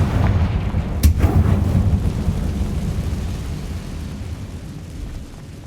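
A Confringo explosive spell goes off in the video game Hogwarts Legacy, a loud booming blast with a sharp crack followed by a heavy rumbling roar that slowly fades.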